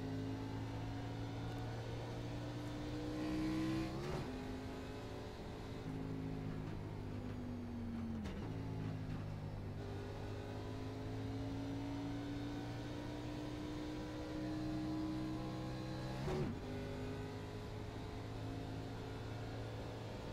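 Simulated Xfinity Series race car engine in iRacing at Road America, a steady loud drone with harmonic tones that shift as the car revs and shifts gears during a qualifying lap, no talking.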